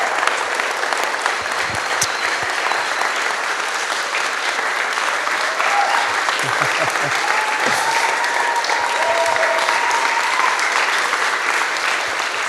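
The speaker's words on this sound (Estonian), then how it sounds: "Tõeline aplaus alles nüüd tuleb." Sustained, loud applause fills the hall at a church youth camp concert service, dense clapping from a large crowd that holds steady for many seconds, with scattered voices mixed in.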